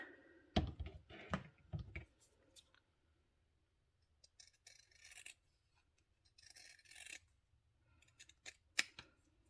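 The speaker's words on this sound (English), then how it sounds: "Cut it with some scissors." Scissors snipping close by, a few quick crunchy cuts followed by quieter scattered rasping and clicks.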